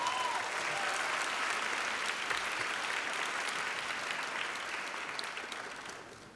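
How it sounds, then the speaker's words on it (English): A graduation audience applauds steadily for several seconds, a dense, even clapping that fades gradually near the end. "just give yourself a round of applause and let it bounce to that."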